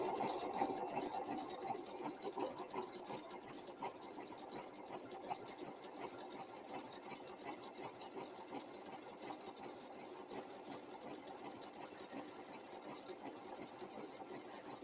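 A sewing machine stitches quilted scrap-fabric Valentine's Day placemats, running steadily and continuously at low volume with no pauses and no talking.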